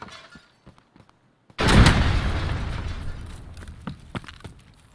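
Grenade blast in a first-person shooter game, one loud sudden boom after a quiet stretch with faint clicks, followed by a long rumbling, crackling decay and scattered small pops.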